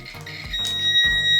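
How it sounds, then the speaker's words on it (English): A multimeter continuity test gives a short electronic beep, a thin steady high tone that starts partway through and holds, with brief low tones and noises around it, while checking a dryer. "it'll make a little beep. That means you have continuity."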